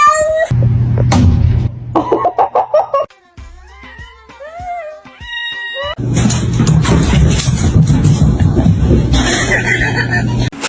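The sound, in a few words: cats fighting and meowing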